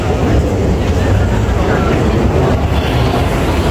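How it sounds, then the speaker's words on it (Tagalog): A Taipei MRT train bound for Taoyuan airport rumbles along the rails with a loud, steady low roar and faint rattling, continuous throughout and with no one speaking. "MRT going to airport"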